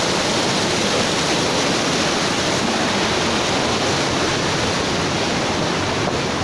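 Steady, loud broadband rush of water flowing from Batise waterfall in Panchthar, a continuous close roar with no pauses and no voices.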